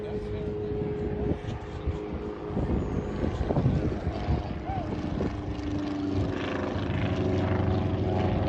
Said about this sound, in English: This is the VW engine.